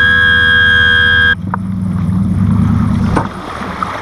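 A boat engine on the St. Lawrence runs with water coming through its exhaust, a steady loud drone that cuts to a lower gurgling rumble with splashing water.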